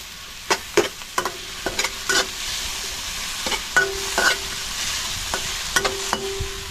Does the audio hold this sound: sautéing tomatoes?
yes